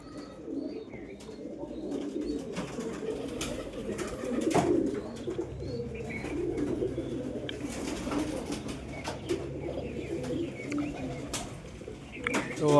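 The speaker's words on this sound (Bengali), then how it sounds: "সকালে এই পায়রাটা এসছে" Pigeons coo steadily in soft, low repeated phrases, overlapping throughout, with faint chirps and background rustle.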